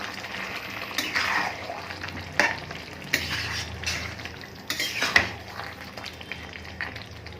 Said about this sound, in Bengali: 3 মিনিট পর ঢাকনা খুলে আমি আবারও একটু ভালো করে নাড়াচাড়া করে নেব।